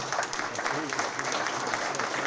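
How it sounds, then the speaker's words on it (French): An audience at an ambassador's press conference applauds André Larue, a dense, steady roll of clapping from a crowd, fairly close and even in loudness, with a murmur of voices mixed in. "Une bonne main d'applaudissements pour M. André Larue."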